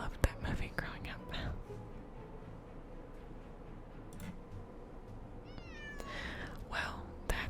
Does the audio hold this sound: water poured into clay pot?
no